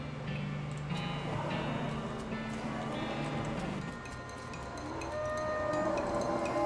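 Hell cows lowing in the West of Loathing video game, a layered herd of moos sounding steadily over game music and noise throughout.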